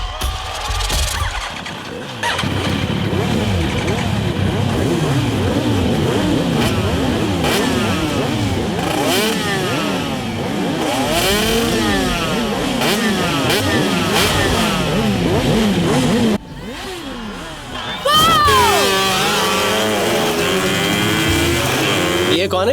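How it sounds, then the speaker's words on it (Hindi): Motorcycle engine revving loudly in an action scene from a Hindi-dubbed South Indian feature film, with continuous sweeping rises and falls in pitch, a brief dip near the end, then a sharper, higher rev. "ये कौन है जो बाइक हवा में उड़ा रहा है?"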